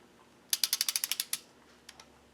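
Torque wrench ratcheting on Subaru EJ engine cylinder head bolts, a quick run of about ten crisp clicks in a row, then two faint separate clicks after a pause, close and clear.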